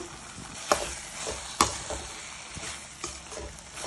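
A spoon stirs peanut powder into tomato palya in a hot pan, with a soft steady sizzle and a couple of sharp clinks of metal on the pan.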